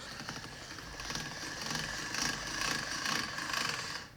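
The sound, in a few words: pasta machine rolling dough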